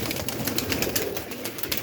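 Ferozpuri breeder pigeons cooing close by, a steady run of soft, repeated coos and bird calls filling the short stretch with no talking.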